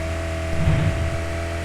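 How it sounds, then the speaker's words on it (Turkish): A car engine hums steadily while driving in PUBG Mobile, a constant low drone with a brief swell in the middle, heard alone without speech. "Harbiden güzelmiş lan bu araba."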